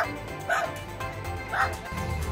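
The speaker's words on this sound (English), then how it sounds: "This angry dog." An angry dog barks twice, about a second apart, beside a road during a scenic ride in Taiwan, with steady road and wind rumble underneath.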